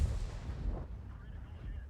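Tank cannon fire in a tank video game aimed at a T-34B, a deep booming shot at the start that rumbles and decays over about two seconds, fairly quiet overall.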